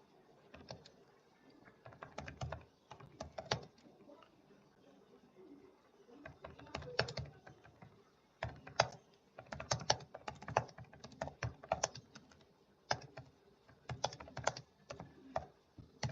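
Fingers typing on a computer keyboard in irregular bursts of clicky keystrokes with short pauses between, fairly quiet and close, while a pigeon or dove coos softly in the background.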